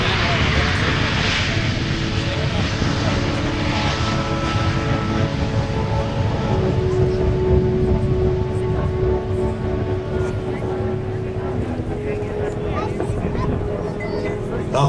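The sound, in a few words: aircraft engine during maximum performance takeoff at air show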